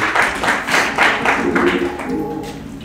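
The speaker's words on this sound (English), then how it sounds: "Let's give them a round of applause." A church congregation claps for the ushers after prayer, a loud, rhythmic round of applause with regular beats close by that tapers off toward the end.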